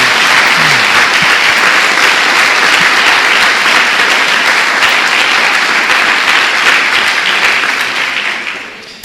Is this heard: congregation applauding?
yes